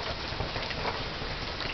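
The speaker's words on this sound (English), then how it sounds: "So it's raining, and I love the rain" Steady rain falls outdoors as a dense, even hiss of drops on surfaces, continuous and moderately faint, with no voices.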